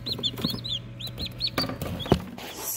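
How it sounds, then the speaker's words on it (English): Newly hatched chicks in an incubator peep in quick, repeated high chirps, close and fairly loud, over a low steady hum. "So we had five more babies hatch out. So now we have seven chicks."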